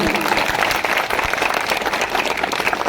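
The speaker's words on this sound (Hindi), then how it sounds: "साथियों, जोरदार तालियों से अभिनंदन।" Dense, steady applause from a crowd at a Hisar political gathering, greeting a guest with continuous loud clapping for the whole stretch.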